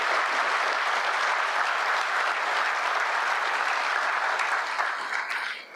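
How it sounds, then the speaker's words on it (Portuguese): A crowd gives sustained, dense applause to the Federal District police and security forces at a public event with President Lula; the clapping stays steady and loud for about six seconds with no speech over it. "uma salva de palmas às polícias do DF"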